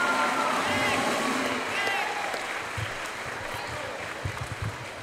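Audience at a 2022 school graduation ceremony clapping steadily for a twelfth-grade class, loud at first and tapering off, with a voice over the applause.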